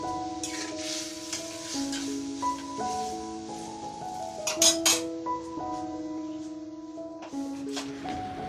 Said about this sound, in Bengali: তো এই আমের ঝোলটা করার পরই আমি আলুটা ভেজেছিলাম